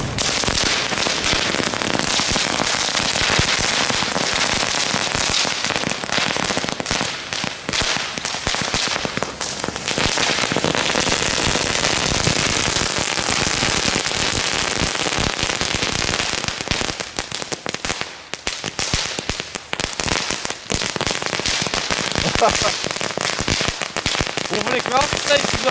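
Leftover fireworks and firecrackers set off outdoors in pouring rain: dense crackling and popping over a steady hiss of rain, with voices talking throughout.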